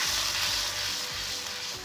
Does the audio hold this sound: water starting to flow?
no